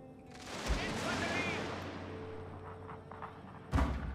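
Crackling volleys of musket fire roll on continuously in a video game battle, with sharp heavier reports near the start and end, under a busy battle din.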